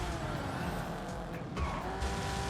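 Rocket League car driving inside the video game Fortnite, a continuous engine and road roar with brief tire squeal, steady and fairly loud under game noise, no talk.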